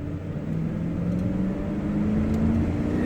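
Engine of a 2008 Ford Expedition XLT 4x4 heard from inside the cabin as it accelerates, a steady low drone with a slowly rising tone, moderate and muffled, with no talking.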